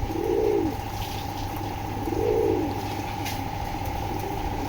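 A pair of high flyer pigeons, Dhaka Giribaz breed, gives two low, rolling coos a couple of seconds apart over a steady background hum.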